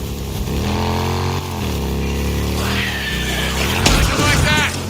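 Motorcycle engine in a zombie video game, humming and revving with shifting pitch under a speaking voice, followed by a loud thump near the end.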